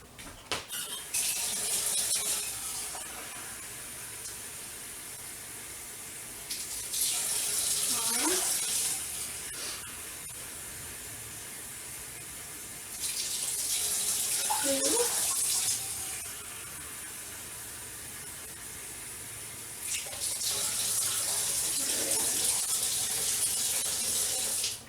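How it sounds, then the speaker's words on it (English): Tap water runs into a pan for grits in a kitchen, flowing in bursts that start and stop several times with quiet gaps between them, and faint squeaks and clinks come from the handling. "put 3 cups of water in this pan for my grits"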